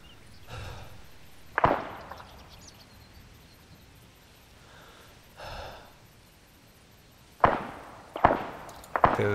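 A handful of sharp, isolated gunshots in Arma 3 crack out, spaced a few seconds apart and then in a quicker cluster near the end, against a quiet, breathy background.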